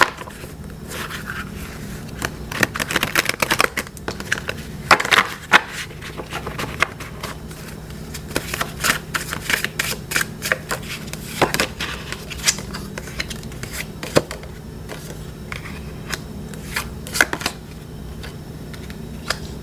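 Playing cards handled and shuffled up close, with a steady run of crisp riffles, flicks and light taps that comes in irregular bursts for the whole stretch, and no voices over it.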